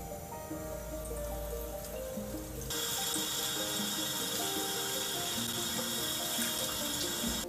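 Tap water runs steadily into a sink as a child rinses her hands, the flow growing noticeably louder and brighter partway through and then continuing as an even, close splashing rush.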